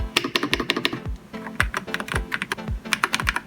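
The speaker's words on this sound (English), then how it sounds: "The keys are quite loud, they don't sound too bad." Someone types on a budget gaming keyboard, producing loud, clacky keystrokes in quick irregular bursts with short pauses, close and clear with no talking.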